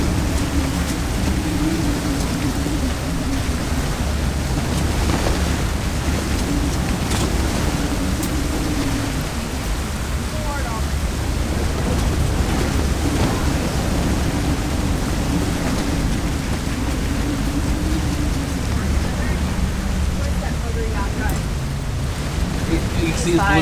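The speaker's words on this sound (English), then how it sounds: "We've got 42 knots of wind." A 42-knot storm wind roars over a catamaran at sea, a constant loud rush with waves breaking underneath and no letup, while voices come and go faintly in the background.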